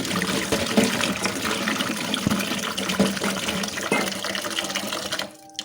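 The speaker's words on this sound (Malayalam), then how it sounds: "ഇഞ്ചിമുളക് ഇതെല്ലാം നമുക്ക് നല്ലതുപോലെ കഴുകി വൃത്തിയാക്കി" Ginger and chillies are washed under a running tap in a kitchen, the water gushing and splashing steadily and loudly before cutting off just before the end.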